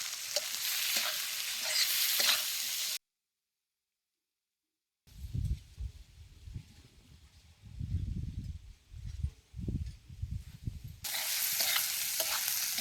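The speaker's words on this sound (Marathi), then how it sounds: "तेलात कांदा चांगला लालसर भाजून घ्यायचा" Onion and tomato frying in oil in a pan over a wood fire, with a steady broad sizzle and low scraping stirs, broken by a short silent gap and then returning with stronger sizzle.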